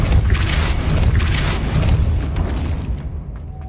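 A Depulso spell cast in the video game Hogwarts Legacy, a loud booming magical blast with a rumbling, crashing body that fades near the end, with no talk over it.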